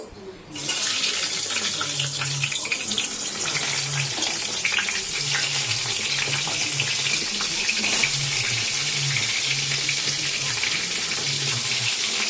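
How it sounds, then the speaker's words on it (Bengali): Pieces of pointed gourd (potol) fry in hot oil with a steady, broad hiss that runs unbroken from start to end, with a faint low hum beneath and no talk. "এবার দেখো তোমাদেরকে করে আমি দেখাচ্ছি পটলগুলোকে ভাজবো"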